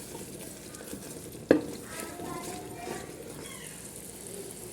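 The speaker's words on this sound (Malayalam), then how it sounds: "നമുക്ക് നല്ലോണം ഒന്ന് മിക്സ് ചെയ്ത് കൊടുക്കാം." Tomato masala with mandi spice sizzles gently in a pan as a spoon stirs it, with one sharp clack against the pan early on, then a soft steady fry.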